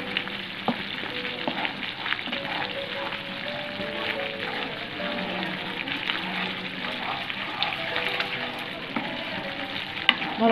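Masala of cumin, coriander, turmeric, garam masala and fish curry powder with potato sizzles steadily in a pan for a Bengali prawn and coconut milk curry, a dense close frying hiss with occasional stirring scrapes and no talk.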